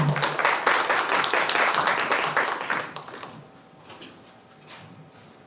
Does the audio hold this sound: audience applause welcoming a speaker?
yes